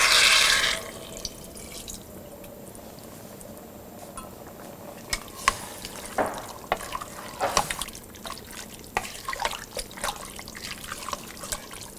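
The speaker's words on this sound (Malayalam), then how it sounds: "3/4 കപ്പ് വെള്ളം ആഡ് ചെയ്ത് നന്നായിട്ട് ഇതുപോലെ മിക്സ് ചെയ്യുക" Water pours in briefly at the start, then scattered wet clinks and sloshing as a spoon stirs it into a thick mutton stew, close and fairly quiet.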